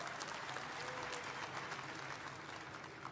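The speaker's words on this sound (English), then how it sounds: "Give him a nice round of applause." A large crowd at the Las Vegas Raiders launch event applauds for the Governor of Nevada: steady, dense clapping that continues evenly from start to end, fairly soft and distant.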